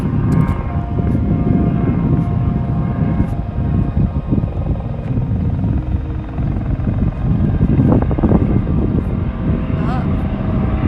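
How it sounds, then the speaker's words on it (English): A sightseeing helicopter near Niagara Falls comes in for a landing, heard as a distant, steady rotor and engine rumble that holds evenly throughout, with faint voices nearby. "I can see a helicopter way over there. He's coming in for a landing."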